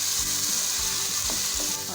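Green chillies sizzle steadily in hot oil in a pan for lobia biryani, with soft scraping stirs breaking through the continuous frying hiss at close range.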